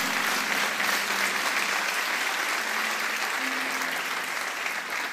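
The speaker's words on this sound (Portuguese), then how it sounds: "Pode aplaudir, irmão" A church congregation claps together during a pastor's sermon, a steady even wash of applause that carries on without pause, moderately loud, with a faint low tone sustained beneath it.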